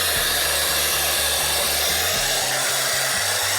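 A loud, steady ice cream maker motor whirs continuously, its low tone shifting and labouring slightly as the strawberry custard ice cream thickens, with no voices.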